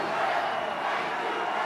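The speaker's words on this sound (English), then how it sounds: "This crowd is in a frenzy." A packed stadium crowd at Heinz Field in Pittsburgh roars in a steady, dense wall of cheering at a Steelers football game, loud and unbroken throughout.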